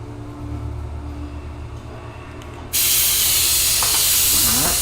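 Airbrush fitted with a texture attachment, spraying black paint onto canvas: a quiet hum gives way to a sudden loud, steady hiss of spray that continues to the end.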